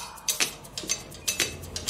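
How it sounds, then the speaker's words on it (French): A kitchen timer ticks close by in a quiet room, giving a handful of sharp, bright clicks at a slightly uneven pace, some landing in quick pairs, with no voices present. "Minuterie."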